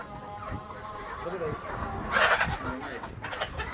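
Chickens at a poultry farm cluck in short bursts amid steady barnyard noise, with people talking over them throughout.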